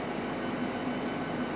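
Steady low rumble and hiss on board a fast London Underground Metropolitan line train heading to Amersham, a continuous even drone with no voices.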